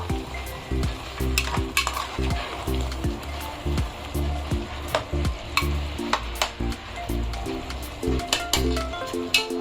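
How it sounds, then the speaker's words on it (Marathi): Mutton is stirred and fried in a pan, with rhythmic scraping of a spoon against the pan and occasional clinks over a continuous sizzle. The sound is close and steady, with no talking. "आपल्या मटणाला बघा चांगली वाफ आलेली आहे आपण काय करूया परत एकदा हे चांगलं हलवूया परतूया"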